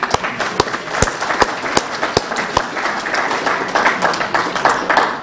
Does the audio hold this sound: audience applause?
yes